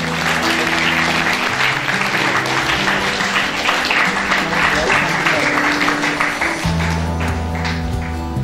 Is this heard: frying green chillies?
no